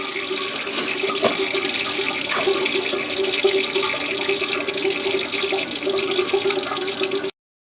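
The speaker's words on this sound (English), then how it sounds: "There we go, it's already leaking." Transmission fluid draining from the pan of a 2007 Pontiac G6, a steady trickling and splashing pour that runs continuously for about seven seconds, close and fairly loud, then stops abruptly with no talk.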